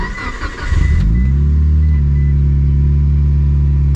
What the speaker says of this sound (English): Let's fire up the Evo.